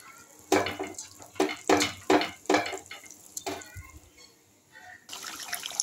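Eggs go into a simmering curry of coriander and curry leaves, making a run of wet clattering stirs and splashes in the pan, then a steady sizzling hiss near the end.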